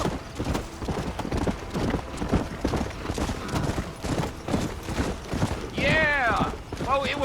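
In the video game Red Dead Redemption, horse hooves clip-clop in a rapid galloping rhythm throughout, with a horse whinnying near the end and characters talking over it.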